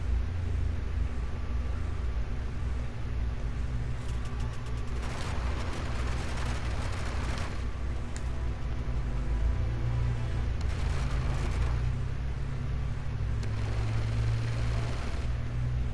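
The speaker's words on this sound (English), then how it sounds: "I hear gunshots." Gunfire from the video game Uncharted 2: repeated bursts of shots and blasts stand out at intervals over a constant low, rumbling game soundscape, loud and close, with no talking.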